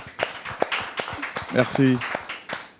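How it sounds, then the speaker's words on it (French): Congregation at a church service applauding with scattered, uneven claps at close range while someone speaks briefly over them. "je voudrais demander au public de rendre gloire au Seigneur par des applaudissements"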